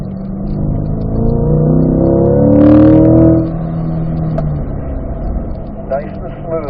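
A race car's engine on a track sits close and loud, its steady drone swelling briefly as the gear drops to third before a corner, with talk running over it throughout.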